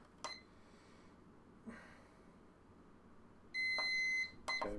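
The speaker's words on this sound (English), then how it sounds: "Sorry about the loud beep." A workout timer gives a short, piercing electronic beep near the end, loud against an otherwise quiet room with a few faint knocks before it.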